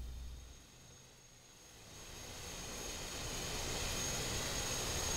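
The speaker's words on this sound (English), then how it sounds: "what you hear right there is that's like an APU kind of sound" Simulated TBM 930 turboprop sitting idle in the Infinite Flight game, a faint, steady APU-like hum and whine with a thin high tone, dipping briefly then swelling gradually louder.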